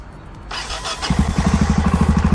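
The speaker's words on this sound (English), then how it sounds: "we have to start the engine" A motorcycle engine is cranked and fires up, catching after about a second and settling into a loud, close, rapidly pulsing idle.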